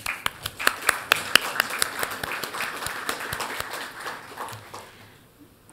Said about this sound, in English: and for that we applaud you.